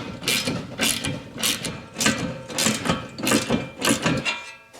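Ratchet tightening bed rack screws on a 2022 Toyota Tundra, a rapid rhythmic run of loud, close clicking bursts repeating about twice a second.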